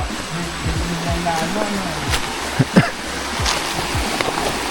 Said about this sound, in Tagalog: kung makikita nyo, napakalaki ng ilog po nito